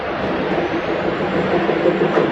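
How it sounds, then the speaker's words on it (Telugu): A DEMU diesel electric multiple unit train pulling into a station platform, a loud steady rumble and rolling roar filling the whole moment, close by and unbroken. "128226 demo diesel electrical multiple unit Moula Ali"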